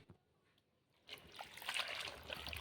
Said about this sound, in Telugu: తర్వాత అందులో 2 times వాటర్ యాడ్ చేసి మంచిగా వెడల్పు ఉన్న గిన్నెలో వేసి కడిగి పక్కన పెట్టుకోవాలి